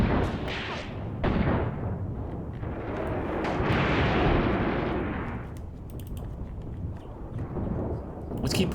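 Tank cannon fire and explosions crash through a WW2 North African battle in a video game, with heavy booms and rumbling blasts rolling continuously, a loud one swelling near the middle.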